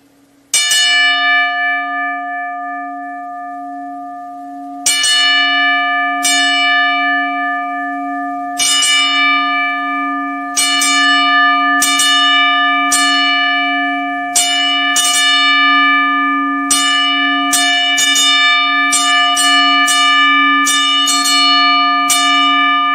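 A ten-bell salute rings out at the AEW All In London wrestling event: loud, clear bell strikes with long ringing sustain, widely spaced at first and then coming faster and closer together, with no voices.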